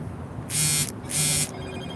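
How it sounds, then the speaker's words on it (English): Two bright electronic buzzing beeps from a phone, each about a third of a second long, sounding close over faint background hum. "My phone is beeping."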